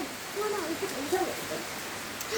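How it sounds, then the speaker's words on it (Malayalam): Steady, dense rain hisses continuously, with a faint voice just audible underneath. "നല്ല മഴ."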